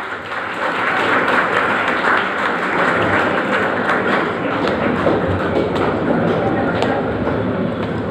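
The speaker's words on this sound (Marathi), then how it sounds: "टाळ्यांचा जोर फारच कमी आहे." Dense, steady applause from an audience at a cycling association's certificate distribution ceremony, a continuous even patter of clapping lasting the whole stretch without swelling into cheers.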